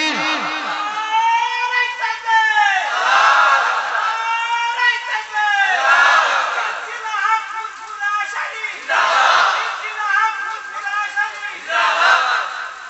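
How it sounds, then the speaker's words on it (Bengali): A crowd at a religious sermon shouts the takbir chant in loud, repeated call-and-response waves. The voices swell and fade several times, filling the space. "একটু তাকবীর দেন, নারে তাকবীর"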